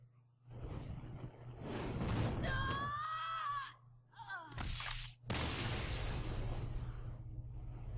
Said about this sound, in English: That death animation take longer than normal. It's a very long scream.